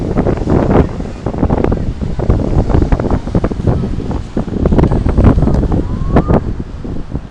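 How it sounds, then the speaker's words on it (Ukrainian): A stormy sea pounds the beach at Ochakiv, with waves crashing and gusty wind buffeting the microphone in a loud, continuous roar. "Дивіться, яке бурхливе море."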